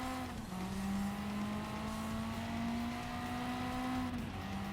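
Race car engine in a racing video game pulling hard out of a chicane after braking into second gear, a steady loud high-pitched whine with a rising tone, sustained and alone with no talk.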